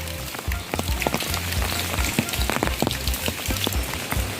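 Steady rain patters on surfaces in a village on an overcast day, a close, continuous wash of drops with scattered louder splashes and low croaking, likely frogs, underneath, with no talking.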